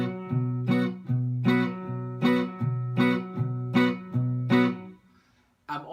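Guitar strummed in a steady boom-chick pattern, a low bass note followed by a bright chord, repeating about seven times before stopping.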